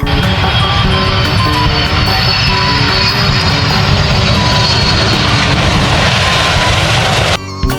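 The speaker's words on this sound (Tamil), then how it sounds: "நீங்க ஃப்ளைட் டேக் ஆஃபோ லேண்டிங்கோ எப்படி பெர்ஃபெக்ட் டைமிங்ல நடக்குதுன்னு பாருங்க" Jet airplane taking off or landing, a loud, sustained engine roar with a whining high tone that holds steady for several seconds before cutting off abruptly at the end.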